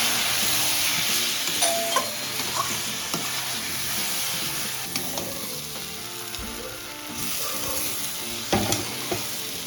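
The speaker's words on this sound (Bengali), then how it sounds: "ভালো মতো একটু নাড়াচাড়া করে দিলাম" Chitol fish curry with turmeric and chilli powder frying in a pan, a loud continuous sizzle broken by repeated scraping stirs and sharp utensil knocks, with no voices.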